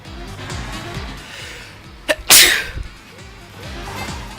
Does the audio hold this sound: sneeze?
yes